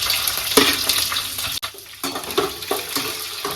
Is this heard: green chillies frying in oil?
yes